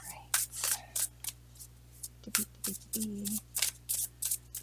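Tarot cards riffled and shuffled by hand in quick bursts of crisp, papery flicks, close and fairly quiet, with brief pauses between runs and a faint voice murmuring partway through.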